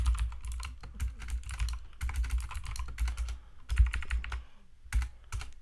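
Rapid typing of code on a computer keyboard, dense clusters of close key clicks in quick bursts with short pauses, steady and alone without any talking.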